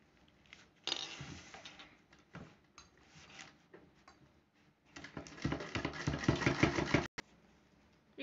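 A sewing machine stitches a small hand purse in two runs: a brief whirring burst, a pause, then a longer, louder run that stops abruptly.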